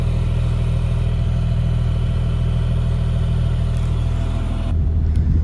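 The engine of a big tractor fitted with front ballast runs steadily at close range, a loud continuous rumble that changes in tone near the end, with no talking.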